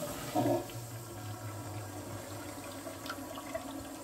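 A macerator toilet receiving a flush of water after its small button is pressed, a soft gurgling rush that swells briefly early on and then settles into a faint steady trickle in a quiet bathroom.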